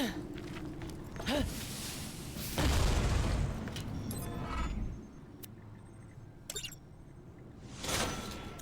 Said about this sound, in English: Yeah, cluster grenade.